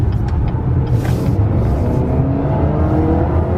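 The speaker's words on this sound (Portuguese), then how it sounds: "que eu afundo o pé no acelerador e o carro dispara para frente" A 2018 Chevrolet Equinox Premier AWD SUV accelerating hard, heard as a loud, steady engine rumble and road roar from inside the cabin with no talking.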